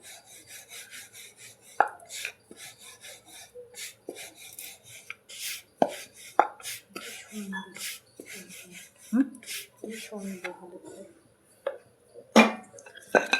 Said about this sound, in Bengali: দেখুন বন্ধুরা, এইভাবে আমি রুটিগুলো বেলে নিচ্ছি।